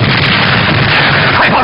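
Naval cannon fire in a 1962 Chinese war film about the Sino-Japanese War, a loud, continuous roar of booming blasts and rumbling explosions that fills the whole clip, with no speech over it.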